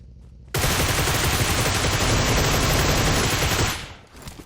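A sustained burst of rapid automatic gunfire in PUBG Mobile, loud and close, firing continuously for about three seconds before cutting off.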